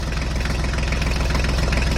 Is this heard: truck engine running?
yes